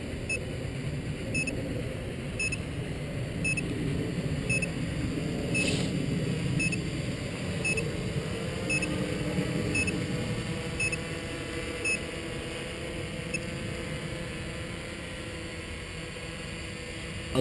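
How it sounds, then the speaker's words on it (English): Faint, evenly spaced high electronic beeps repeat over a steady whirring hum, a Hoverthings VC-450 quadcopter's flight-time alarm going off in flight at eight minutes. "The alarm, those beeps, that means that I'm about to go over 8 minutes of flying time."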